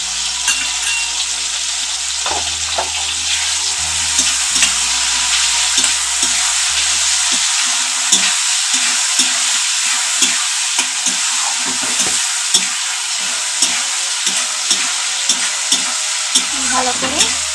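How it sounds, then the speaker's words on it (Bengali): Spices such as turmeric, chili, coriander and cumin powder sizzle and fry in a pan for mustard bottle gourd greens, with a steady loud hiss throughout and frequent scraping, clinking stirs of a spoon against the pan. "ভালো করে ভাজা ভাজা করে নেব।"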